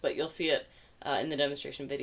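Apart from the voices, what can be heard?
No distinct noise like a dog, phone or traffic.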